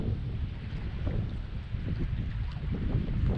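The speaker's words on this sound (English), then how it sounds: "the wind's so bad I can't even hear myself talking" Strong wind buffets a fishing boat out on the water off New Jersey, a loud continuous low rumble of wind noise over the microphone with churning water underneath and no clear speech.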